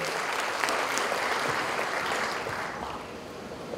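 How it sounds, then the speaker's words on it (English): An audience at the opening of the Asia Africa Smart City Summit in Bandung applauds the West Java Governor, with dense, sustained clapping from a large crowd heard from a moderate distance. The applause is steady and fades slightly toward the end. "Please give a round of applause to Pak Governor."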